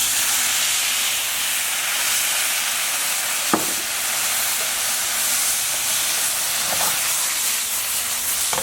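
White wine hitting a hot risotto ai funghi pan gives a steady, close steam hiss that holds for the whole stretch, with a few faint clicks of the pan mixed in.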